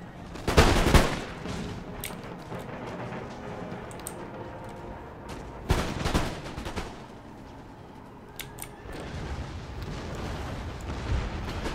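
Musket volley fire in the video game Empire: Total War, two loud, booming volleys several seconds apart, each a crackling burst that decays into scattered distant shots and battlefield rumble.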